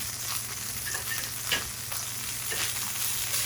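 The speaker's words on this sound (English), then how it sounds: "Hear that nice sizzle." Steady, close sizzling of feta cheese frying in hot olive oil, with a few soft scraping stirs and no talking.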